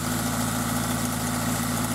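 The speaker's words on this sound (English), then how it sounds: "Can you hear that? That valve train noise?" A Toyota MR2 Spyder engine idling with a valve train problem, a steady close mechanical drone with an even, fast ticking pulse running throughout.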